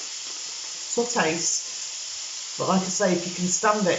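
Steady broadband sizzling of puttanesca sauce frying in a pan runs throughout, with a person talking over it in two short bursts.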